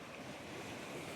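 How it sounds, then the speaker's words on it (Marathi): Sea waves surging onto Tondawali Beach, a dense, steady rush of surf mixed with wind buffeting the microphone, heard alone without voices over this brief stretch. "लाटा खूपच डेंजर आहे"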